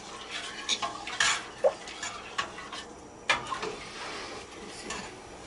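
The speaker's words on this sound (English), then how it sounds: "make sure the mixture is mixed in all the way" A spoon stirring a flour mixture into a mac and cheese sauce in a pot, with irregular scraping and sharp clinks against the metal, close and fairly quiet with no talk.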